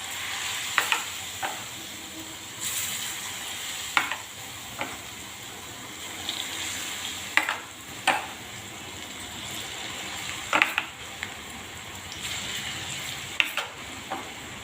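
Boondi batter for mothichur laddu dropping into hot oil, giving a steady bright sizzle with periodic sharper bursts as each batch hits the oil, close and alone.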